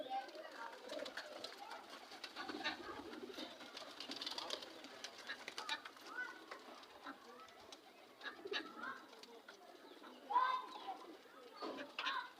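Pigeons coo softly near a coop where some birds have gone inside and young birds sit nearby. Low, faint coos repeat irregularly over a quiet background, and a few louder calls come near the end.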